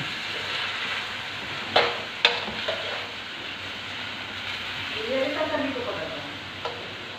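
Pinakbet vegetables with tomatoes cook in a pot with a steady sizzle, broken by a few clinks and scrapes of stirring and a faint voice partway through.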